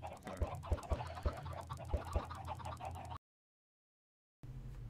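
Minecraft chickens cluck close by in a handful of short, evenly spaced clucks over farmyard ambience, then sound cuts out briefly before resuming quietly.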